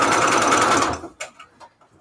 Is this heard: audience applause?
no